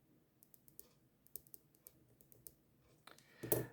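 Buttons on a scientific calculator pressed in a scattered series of faint, light clicks, quiet and close, ending in a louder rustling clatter near the end; no talking.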